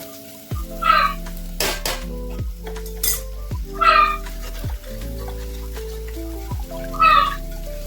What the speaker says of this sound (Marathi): इकडं जे ना सांबारला फोडणी देते. सगळे मसाले वगैरे सगळे टाकून फ्राय केलेत.